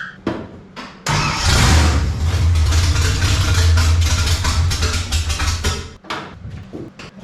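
The small block V8 in a 1955 Chevy cranks and catches, then idles loud and close with a deep, steady rumble for about five seconds before dying away. A few short clicks come before it starts.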